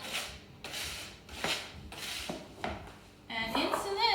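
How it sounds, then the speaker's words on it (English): A whisk scrapes and rasps through a melted chocolate and butter mixture for brownies, in several repeated strokes against the bowl, near and fairly loud, with a brief metallic clink and ring near the end. "I'm just gonna give it a few whisks through so it all is nice and combined."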